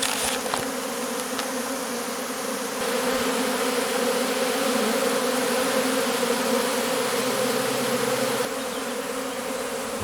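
A dense honeybee swarm hums and fans at a new hive, a steady close buzzing that fills the whole stretch without a break.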